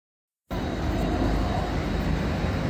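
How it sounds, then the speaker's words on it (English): A heavy, continuous aircraft roar bursts in abruptly after a moment of silence and holds loud and steady, from an airplane on fire. "Plane's on fire."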